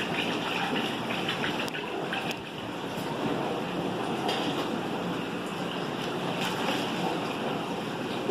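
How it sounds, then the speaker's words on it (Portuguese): Water in a 20-litre saltwater fish treatment tank being stirred, a steady broad wash and swirl of sloshing that runs without a break, close but soft, with no talk. "Vamos agitar essa água."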